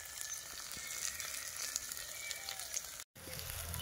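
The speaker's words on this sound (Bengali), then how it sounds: "দিয়ে মশলাটাকে খুব ভালোভাবে কষাই করে নেব" Spices sizzling as they fry in a pan of oil while a village cook prepares country chicken curry outdoors, a steady close crackle with small pops, briefly cut out near the end before resuming.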